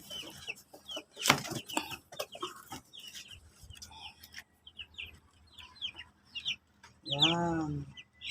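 Month-old Brahma and Kabir chicks cluck and peep close by in a flurry of short calls, with a louder drawn-out squawk near the end and some handling noise and faint background talk.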